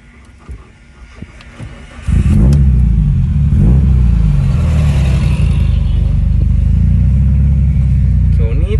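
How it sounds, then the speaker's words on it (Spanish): A Mitsubishi Evo with over 500 hp fires up with a sudden loud rumble, then its engine holds a deep, throaty idle with blips of throttle, close and dominant, while people talk nearby. "Dale llave y un poquito de gas."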